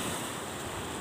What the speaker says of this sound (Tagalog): tsaka ang talampak ng alon.